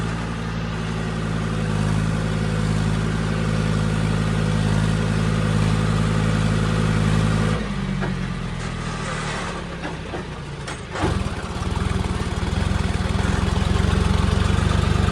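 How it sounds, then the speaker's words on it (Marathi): A tractor engine idles close by on a narrow rural road, a steady low chugging drone that shifts in pitch partway through as the engine note changes, with brief clunks and rattles near the end. "फायनली आपलं ट्रॅक्टर एकदम मस्त चढलेलं आहे"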